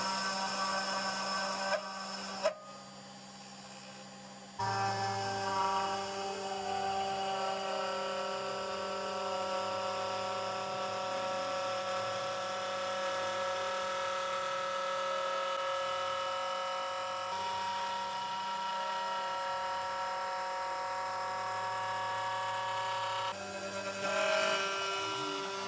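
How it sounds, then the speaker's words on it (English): Genmitsu PROVerXL 6050 Plus CNC router with a 1/8 inch flat end mill, drilling and then contour-cutting a part from the stock, a steady high spindle whine with shifting cutting tones, briefly interrupted near the start and later. "I will change back to the 1/8 inch flat end mill, drill a hole, and run a contour to cut it out"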